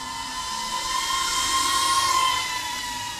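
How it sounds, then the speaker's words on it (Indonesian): A GEPRC Cinebot30 3-inch FPV drone flies close by, giving a steady, high, whining motor buzz that holds a sustained tone and swells slightly in loudness midway. "Dan inilah suara dari Sinpo 30 drone 3in ya. Berisik Om ya"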